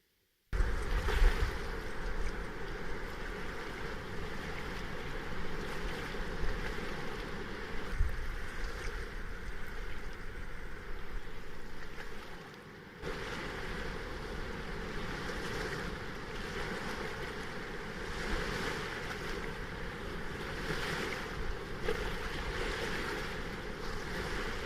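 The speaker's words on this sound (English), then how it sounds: "she played back the sounds of the Baker over 28 speakers set in the dry riverbed" A field recording of the Baker river plays back over many speakers set in a dry riverbed, a dense, steady rush of flowing water that fills the space, loud and continuous with a brief dip partway through.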